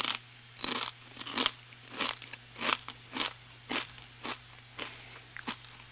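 Kettle salt and vinegar potato chips are eaten with loud, close, regularly spaced crunches, about a dozen bites and chews against a quiet background hum.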